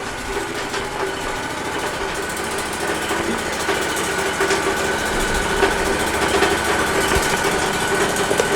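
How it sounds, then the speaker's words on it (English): A dust collector at a Wood-Mizer LT40 sawmill runs with a steady, continuous mechanical drone and rattle. It stays fairly loud and even throughout, with no voices. "Let me start this dust collector."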